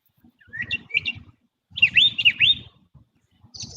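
A person on a sports trivia podcast imitates bird calls, whistling short chirpy phrases in two quick clusters with soft murmuring underneath and a brief final whistle.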